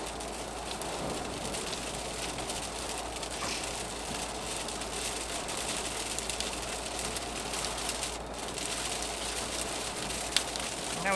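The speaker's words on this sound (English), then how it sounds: "Now we're back into heavy rain again." Heavy rain drumming on a car towing a trailer while driving, a dense steady hiss and patter on the roof and windscreen over a low road rumble, unbroken throughout with no voices.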